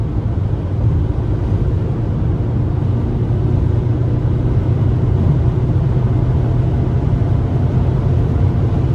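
A 130 hp Opel Combo Cargo 1.5 engine pulls uphill under hard throttle, heard as a loud, steady low drone inside the cab with no distinct breaks.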